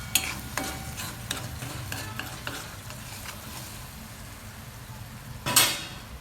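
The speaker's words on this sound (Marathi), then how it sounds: "हे बघा मसाला चांगला प्रॉपर शिजलाय, तेल बी सोडलंय त्यांनी मसाल्याने." Masala sizzles in oil in a pan while being stirred for paneer bhurji, a close frying hiss with repeated scraping strokes of the spoon and a louder clatter near the end.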